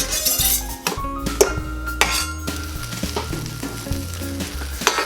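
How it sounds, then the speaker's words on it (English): A slice of bread toasts in a frying pan with a crackling sizzle, joined by several clinks and scrapes of metal utensils against the pan. "I'm toasting this middle slice of bread in the pan"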